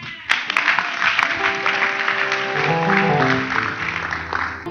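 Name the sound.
congregation clapping hands for Jesus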